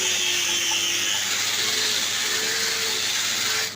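A power sanding machine works a wooden door with a steady, loud, high whirring hiss close by, with slight pitch wavers as it moves across the surface. It runs continuously with no voices.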